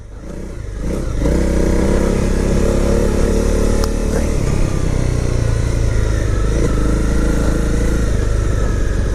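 A 2018 Honda CRF250L dirt bike rides across slippery, muddy grass, its single-cylinder engine rising from a low rumble into a loud, steady drone with throttle blips, close by and without talk.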